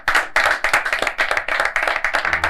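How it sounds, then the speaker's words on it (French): Lively, fast clapping from a studio audience welcoming a guest onto a television show set, close and loud with quick overlapping beats and no voices. "nous en recevons ici, sur ce plateau, avec un tonnerre d'applaudissements"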